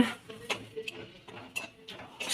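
A mother cooking in a home kitchen produces light metallic clinks and clatters of pots and utensils, several separate taps spaced irregularly, moderately close against a quiet room.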